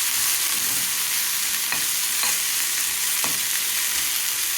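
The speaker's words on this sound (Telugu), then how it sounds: "మనకి టొమాటో పీసెస్ తొందరగా మగ్గడానికి ఇట్లా గరిటెతో ప్రెస్ చేస్తే తొందరగా మగ్గిపోతాయి" Tomato pieces pressed with a ladle in a frying pan for a curd tempering dish: a steady sizzle of frying with a few sharp scraping presses of the ladle against the pan, close and without talk.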